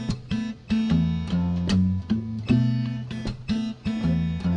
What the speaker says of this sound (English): So we've got a nice bass line and chord part playing off of each other.